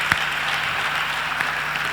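A conference audience applauds, a steady, dense patter of many hands clapping at moderate volume from a room full of people, with a couple of sharper individual claps standing out.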